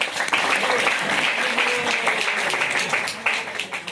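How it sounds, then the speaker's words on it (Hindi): An audience at a devotional discourse at an ISKCON temple applauding for the devotees, sustained crowd clapping at moderate level filling the hall, continuous and even with a slight taper at the end. "सो बहुत सारी तालियां यहाँ के भक्तों के लिए"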